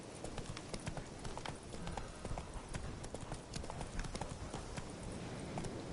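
Hooves of Roach, the horse in The Witcher 3, clip-clopping in a quick, steady trotting rhythm, fairly close and moderately loud, with no voices.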